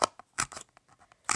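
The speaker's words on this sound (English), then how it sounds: "So you get your safety scissors." Safety scissors snipping through material for a homemade football trophy, a few crisp close cuts separated by brief pauses, with no talking.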